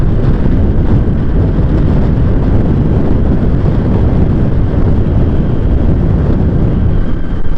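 Wind blows hard along a highway at Gournadi under a cloudy sky, a steady, loud, low roar buffeting the microphone without a break and with no one speaking.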